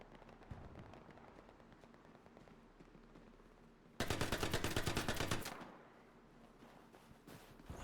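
Gunfire in a large multiplayer war video game on a night map. Faint distant shots crackle at first, then a loud rapid automatic burst lasts over a second, with scattered shots afterward.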